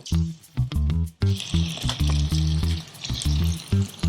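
Pieces coated in thick, spiced ready-mix batter made with cold water sputter and sizzle as they deep-fry in hot oil, with crackling bursts up close and a rhythmic scraping, stirring clatter over the bubbling.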